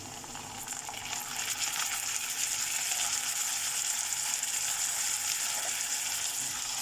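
Onion with ginger garlic paste frying in a pan for paneer lababdar, a steady, dense sizzle that swells slightly after the first second and then holds loud and even throughout, with no talking.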